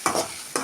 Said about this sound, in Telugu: మామిడికాయ తురుము వేసుకొని కలుపుకోవాలి.